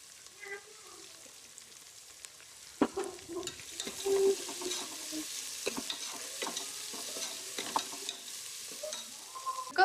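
Onions with ginger garlic paste sizzle and fry in a pan, a soft steady crackle broken by occasional stirring clinks and scrapes, fairly quiet throughout.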